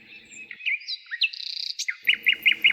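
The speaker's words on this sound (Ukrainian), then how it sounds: "Перелітні птахи в'ють гнізда, співають пісні і шукають собі поживу." Migratory birds singing in spring: bright chirps, whistles and trills come close and clear, in quick bursts and rapid repeated notes, with a faint low rustle beneath and no talk.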